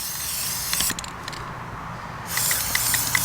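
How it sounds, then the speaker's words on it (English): Aerosol spray paint hissing from a can onto the emblems of a 2019 Mustang GT, two close steady bursts separated by a short pause, with faint clicks from the nozzle. "So I spray it from the top."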